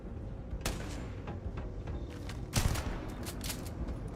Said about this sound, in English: This old Earth shotgun is pretty fantastic.